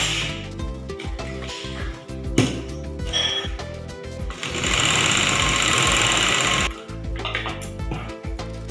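A sewing machine stitches a katori blouse in bursts of rapid mechanical clatter, with a longer continuous run in the middle, close and fairly loud, with no talking.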